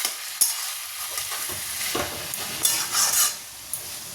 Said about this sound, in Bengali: এবার এটাকে ভালো করে মিশিয়ে ঢাকা দিয়ে রেখে দেবো